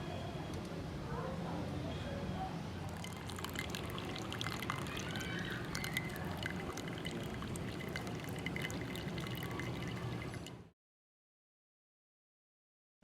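Fresh water poured steadily into a container, a continuous splashing trickle for about ten seconds before it stops abruptly.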